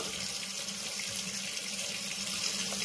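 Tap water runs steadily into a sink while makeup brushes are rinsed, a constant close hiss and splash with no talking.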